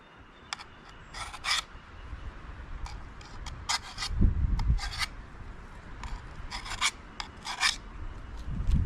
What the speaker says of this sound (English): Sharpen that fine edge there.